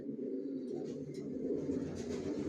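Racing pigeons in a loft coo in a low, continuous murmur, several birds overlapping close by with a steady hum underneath and no pauses.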